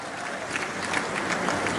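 Applause from a large crowd at a public development event in Gwalior, steady and dense throughout, with no talk over it.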